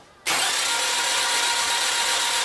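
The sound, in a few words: engine cranking with no compression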